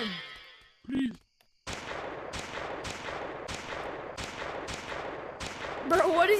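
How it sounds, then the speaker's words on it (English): Repeated gunfire in a penguin-themed video game's yeti mode: a steady run of sharp shots at a regular rhythm after a brief spoken exclamation, ending in a louder burst. "Is this gun like misfiring or something?"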